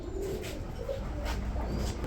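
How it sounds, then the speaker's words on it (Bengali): A pair of red Meghpai pigeons, often mistaken for Danish pigeons, coo in a few soft low murmuring phrases close by, over a steady background with no talking. "খুবই সুন্দর চমৎকার এক জোড়া মেঘপাই রেড কালার ড্যানিশ কবুতর রয়েছে"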